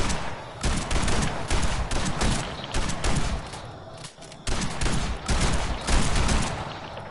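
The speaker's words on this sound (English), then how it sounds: "got a double shotgun just in your honor." A double-barreled shotgun fires a celebratory gun salute at a birthday surprise. Loud, close blasts and crackling reports run almost continuously, with a brief lull midway and no clear talking.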